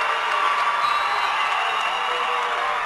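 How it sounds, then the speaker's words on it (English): A high school volleyball crowd at the 2012 Colorado 3A state semifinal between Platte Valley and Roaring Fork cheers and claps in a dense, steady roar for Platte Valley, loud and unbroken throughout. "This Platte Valley crowd really feeling it now."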